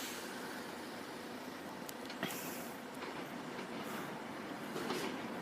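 A Class 170 train passes the Henwick level crossing in Worcester, a moderately distant steady rolling rumble with occasional wheel clicks and faint squeals.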